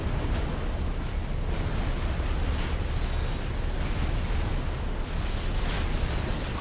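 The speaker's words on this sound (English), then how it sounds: "the army that looked like it was posturing for an attack after Illidan got knocked out is now under massive bombardment" Artillery bombardment in Supreme Commander during a 5v5 match on the Canis map: a continuous rumbling barrage of overlapping explosions and booms, loud and dense throughout, with no pauses and no voices.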